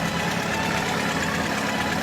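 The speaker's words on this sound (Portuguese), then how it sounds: "Possui motor 4 cilindros, movido a gasolina." A 1920s four-cylinder gasoline tractor engine with front-mounted cooling idles steadily, a continuous low, rough mechanical rumble with a faint knocking texture and no voices.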